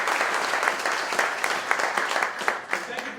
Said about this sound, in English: I'd like to have a round of applause for Cindy.